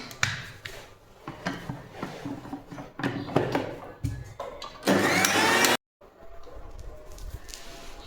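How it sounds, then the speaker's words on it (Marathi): A mixer grinder whirs in short bursts between clicks and clatter of the jar as it grinds green chillies, ending in one loud sustained grind before stopping abruptly. "आठ दहा बारा मिरच्या हिरव्या ह्या मी बारीक करून घेते मिक्सरला"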